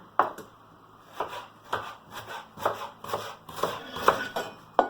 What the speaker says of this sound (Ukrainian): беремо цибульку і ріжемо її напівкільцями